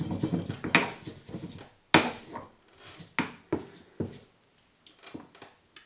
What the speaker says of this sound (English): pounding, just to start to break the herbs down a bit and get the cumin and the garlic and the chilli, the clove, the cardamom pod